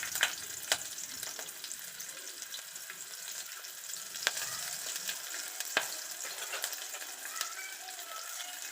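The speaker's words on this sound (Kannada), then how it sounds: "ಈರುಳ್ಳಿ ಸ್ವಲ್ಪ ಫ್ರೈ ಮಾಡಬೇಕು" Onions fry in a pan for a simple masala avare kalu saaru, giving a continuous, bright sizzle with a few sharp crackles and the occasional clink of stirring.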